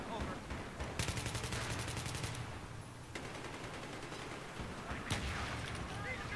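Battlefield 3 gunfire on the Markaz Monolith map in a conquest match: sharp rifle shots crack at about 1 s and 5 s over a steady din of distant battle, with someone talking throughout.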